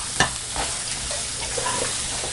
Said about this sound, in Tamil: இது நல்லா பொன்னிறமாக வதக்கிக்கலாம்.